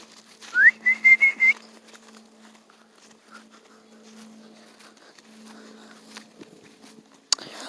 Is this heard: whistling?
yes